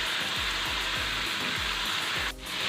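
Meat sautéing with fish sauce in a pan for palabok: a steady, close, loud sizzle with a repeated low rhythmic thump underneath, briefly dipping near the end, with no talk.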